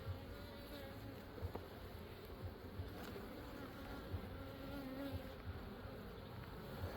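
Steady, low droning buzz of many honey bees inside a hive, continuous and close, with faint soft handling noises.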